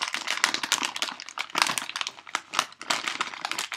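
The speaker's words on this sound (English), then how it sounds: "That noise you hear is me rummaging in the bag for a cough drop." Someone digs through a crinkly bag looking for a cough drop, making a steady, close rustle and crackle of plastic that goes on throughout with no speech.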